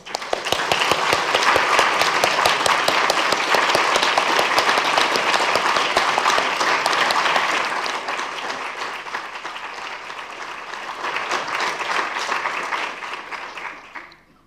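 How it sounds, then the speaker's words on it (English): Audience applause at an eating disorders and pregnancy training event, sustained dense clapping from a room full of people that eases slightly midway, swells again, then fades out near the end. "can we give Christina just one more round of applause?"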